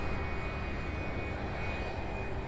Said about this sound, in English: So while this 757 out of Peoria comes in for a landing